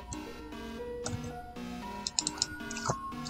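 Quick bursts of computer keyboard typing, a few light clicks in short clusters, sit under a steady tonal game-music background at low level.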